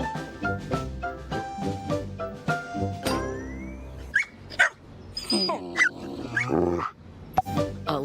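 In a Subaru Crosstrek advert, a dog barks, yips and whimpers in short sharp bursts after a stretch of music fades out.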